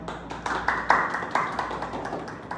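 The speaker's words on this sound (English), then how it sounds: "give applause for Pak Alman." Applause in a classroom during a micro-teaching practice session, with a small group giving a few seconds of fairly steady, close hand clapping.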